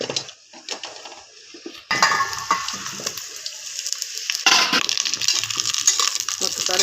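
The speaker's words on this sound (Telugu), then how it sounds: "ఆయిల్ వేడైంది. శుభ్రం చేసి పెట్టుకున్న ఉసిరికాయలు వేస్తున్నాను." Cleaned amla gooseberries tumble into hot oil in a cooking pot at home: a brief clatter, then a sudden burst of sizzling that eases and flares again partway through, close and fairly loud.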